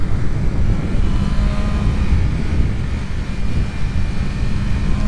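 A BMW M1000RR's four-cylinder engine drones steadily and loudly while the motorcycle is ridden, blended with a constant rush of wind and no pauses.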